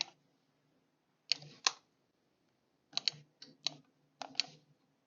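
A computer keyboard and mouse click in small bursts of sharp, close taps with brief silences between them while a Tab key is hit and text is aligned in Word. No speech is heard.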